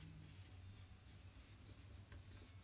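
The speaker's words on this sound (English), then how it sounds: "I'm ready to write it down. I've got my pencil and I have paper somewhere." A pencil scratches across paper at a desk, with close, quiet, continuous scribbling strokes throughout and no voices.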